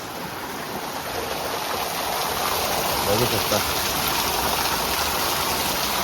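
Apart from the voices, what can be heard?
heavy monsoon rain falling outside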